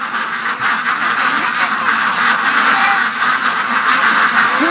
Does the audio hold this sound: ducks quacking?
yes